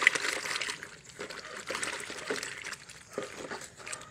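Water splashes and trickles steadily as a Suzuki Raider 150 FI motorcycle is washed with water and powdered soap, a close, continuous wet sound with irregular bursts of pouring and dribbling.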